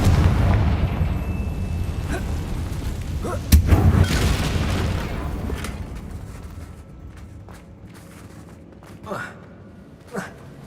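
A Confringo spell blast in the video game Hogwarts Legacy, a booming explosion that rolls out over a rumbling background and fades, followed by a few lighter impacts.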